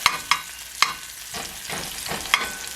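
Onions frying for a farm-fresh frittata in a cast iron skillet, a steady sizzle broken by sharp scraping stirs every half second or so, close and alone with no talking.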